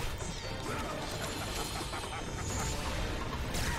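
Boss smashing the player in God of War: Chains of Olympus, a video game: a dense, loud crashing impact under a continuous roar of game noise, no talking.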